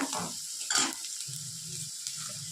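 Masala mixture for a potato masala being sautéed in a pan, a soft sizzle with two quick scraping stirs early on and a low steady hum underneath, fairly quiet and without talking.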